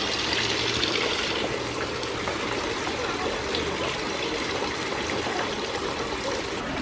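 Holy water pouring from spouts into a bathing pool at Goa Gajah temple in Ubud, Bali, a continuous rushing splash with a steady broadband wash throughout, with faint voices in the background.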